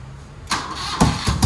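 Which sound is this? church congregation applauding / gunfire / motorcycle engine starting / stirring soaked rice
motorcycle engine starting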